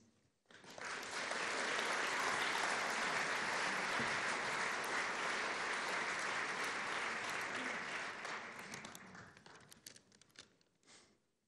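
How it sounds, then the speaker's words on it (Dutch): Thunderous applause at a literary festival winter night event, dense crowd clapping that swells quickly, holds a strong even roar, then thins to scattered claps and dies away. "Dames en heren, uw aandacht en daverend applaus"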